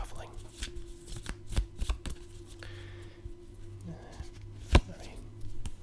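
A deck of playing cards is shuffled softly close to the microphone in a quiet ASMR setting, giving riffling patters and a few sharper taps. Faint whispered talk runs alongside.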